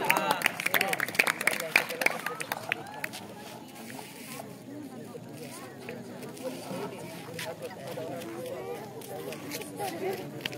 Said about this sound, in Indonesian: Tepuk tangan dulu untuk Ustaz Fadli.